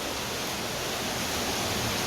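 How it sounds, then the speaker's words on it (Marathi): Heavy rain falling hard outdoors, a continuous broadband roar with no break, close and steady, no voices audible. "किती जोरात पाऊस चालू आहे आमच्याकडे"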